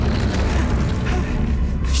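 In the Atomic Heart video game, a canister is blown up: a loud, sustained booming roar fills the whole stretch, dense and rumbling from start to finish with no distinct breaks.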